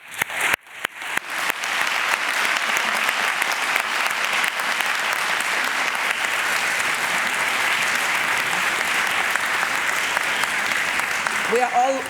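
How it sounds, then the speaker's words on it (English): Conference audience applauding women from Ukraine at an energy conference opening, beginning with a few scattered claps that quickly swell into sustained, even applause filling the hall. "And again, also a special applause"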